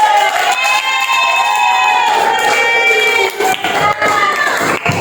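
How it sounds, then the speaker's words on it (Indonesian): A classroom group cheers and claps loudly for group 1, a sustained crowd of children's shouting voices with scattered clapping blending into a continuous roar. "Kita beri aplaus untuk kelompok 1"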